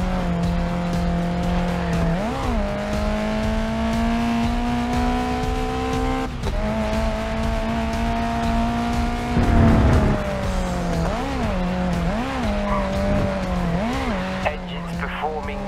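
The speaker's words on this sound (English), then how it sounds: "Engine's performing near peak." Race car in the Grid Legends video game, a loud sustained engine whine rising and dipping with gear changes, with tire squeal and skidding bursts mid-run, and a voice speaking over it.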